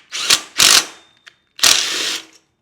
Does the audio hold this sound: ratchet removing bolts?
yes